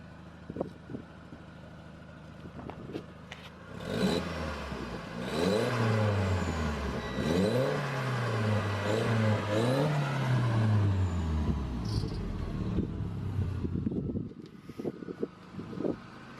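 A track car with an aftermarket exhaust revs several times up close, each blip rising and falling in quick, smooth sweeps over a steady idle, with no talking.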